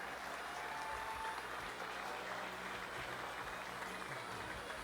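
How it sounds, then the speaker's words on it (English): A crowd at a costume and ponytail contest applauds the winner, producing a dense, steady wash of clapping that stays even throughout and sounds somewhat distant and muffled. "How about a big round of applause for Miss Brooke Larson?"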